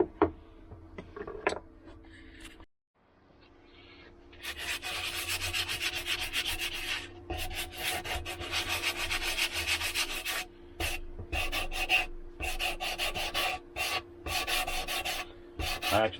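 Steady rasping strokes of sandpaper on a carved wooden piece, close and continuous with brief pauses, preceded by a few light knocks and handling sounds.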